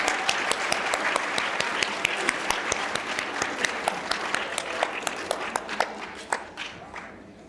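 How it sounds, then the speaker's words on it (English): An audience at a public science talk gives volunteers a round of applause, broad sustained clapping with a few sharp, close hand claps standing out, tapering off near the end. "Let's give our volunteers a round of applause."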